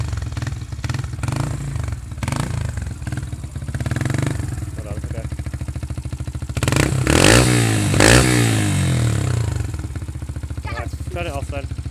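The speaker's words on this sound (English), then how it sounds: "Rev it again a couple of times" A Yamaha YBR 125 motorcycle with a Leo Vince exhaust idles with a buzzy, popping note, then revs up loudly a couple of times and settles back, recorded close by.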